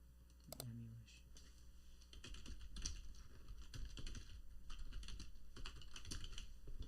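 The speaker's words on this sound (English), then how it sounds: "I touch type, and I need to set my fingers right on the keyboard" Touch typing on a computer keyboard produces rapid, close clicking keystrokes in uneven bursts, preceded by a short tone, with no voices.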